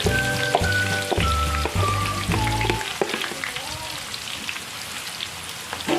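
Thinly sliced shallots and garlic fry in oil in a pan, giving a steady crackling, rain-like sizzle under background tones for the first half, then continuing more softly and evenly.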